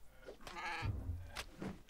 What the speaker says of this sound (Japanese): お、ヤギがいる。